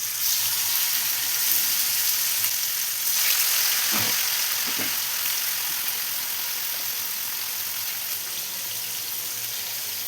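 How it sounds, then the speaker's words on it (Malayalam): Marinated chicken fries in oil already used for potatoes, a steady loud hiss and crackle close by with a few brief clinks as pieces are moved. "പൊട്ടാറ്റോ ഫ്രൈ ചെയ്ത് വെച്ചാൽ അതേ ഓയിലിൽ തന്നെ നമുക്ക് ചിക്കനും ഫ്രൈ ചെയ്തെടുക്കാം."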